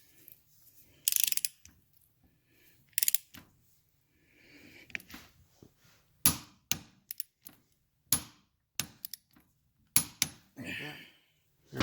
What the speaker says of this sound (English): we're gonna torque that nut back down to 60 foot-pounds again